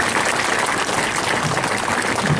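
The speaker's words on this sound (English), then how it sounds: "Give her a round of applause, everyone." Audience applause for a child at a safari park animal show, a broad, steady patter of clapping from a crowd.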